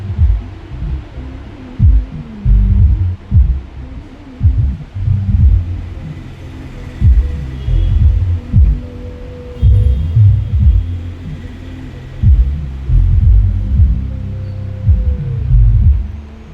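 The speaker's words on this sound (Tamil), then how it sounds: "அடுத்து சப்வூஃபர் செக் பண்ணி பார்க்கலாம்." Subwoofer on a 5.1 analog Dolby Digital power amplifier playing a bass test, with deep, loud, throbbing thumps and rumbling low notes in an irregular rhythm that continues throughout, close and with no talking.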